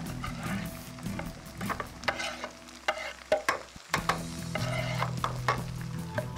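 Chopped tomatoes hit a pan of frying onions for a mixed vegetable sabzi, bringing a close, crackling sizzle with intermittent scraping stirs and light clinks of a utensil against the pan.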